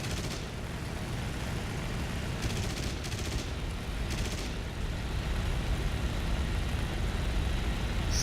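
Short machine gun bursts from an aircraft in War Thunder, the flight combat game, firing in brief clusters over a steady loud engine drone, with no talk.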